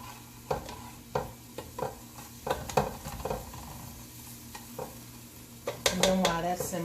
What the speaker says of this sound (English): Okay, stir that around. And a little bit more. Okay, let that start simmering.